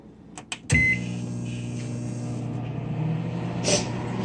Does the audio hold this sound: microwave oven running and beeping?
yes